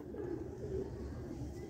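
Pigeons kept as a hobby, a pair of Sialkoti Ali Wala birds, coo softly in low, rolling murmurs against a quiet outdoor background, with no one speaking.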